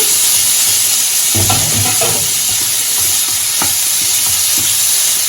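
Tomato and green chilli frying in a pan for egg burji: loud, constant hissing sizzle with intermittent stirring knocks and scrapes, close up.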